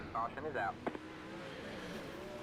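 Dirt-track 360 sprint car engines in a racing video game at Fairbury, a steady engine drone through the clip with a commentator's voice briefly over the start.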